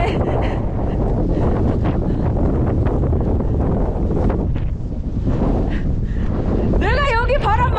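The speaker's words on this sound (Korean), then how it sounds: "내가 여기 바람 많이 분다 했지." Strong wind on the Seonjaryeong mountain ridge roars steadily and loudly across the microphone, buffeting without letup, with voices talking under it.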